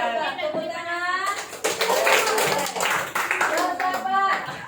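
Hands clap together in a burst of applause from a group of children, with chatter and some singing voices around it.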